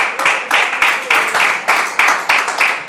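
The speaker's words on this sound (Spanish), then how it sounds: "Un aplauso a Jesús" Church congregation clapping in a rhythmic, steady beat, about two claps per second, loud and fairly close, with no voices over it.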